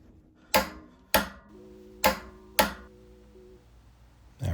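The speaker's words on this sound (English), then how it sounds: "go ahead and get these nuts installed and get them torqued" Nuts being tightened and torqued during assembly work on a Harley-Davidson Electra Glide Ultra Classic: four sharp, close metallic clicks spaced evenly about half a second apart, then a fifth starting at the end, over a quiet background.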